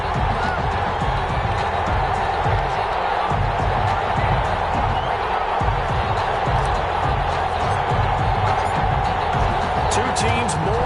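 A stadium crowd roars continuously in an EA Sports football video game between the Houston Texans and Washington, a dense, steady wash of cheering with a commentator talking over it.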